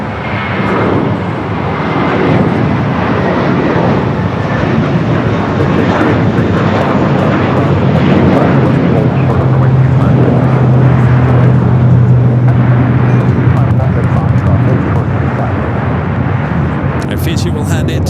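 An airliner rolls for takeoff on runway 25 Right at LAX, its engines building into a loud, sustained roar that holds steady throughout, with a voice talking over it.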